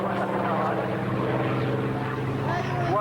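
Douglas Skyraider propeller aircraft flying at an air show at Cambrai Air Base 103, a steady droning engine and propeller roar with a shifting pitch, under a voice talking throughout.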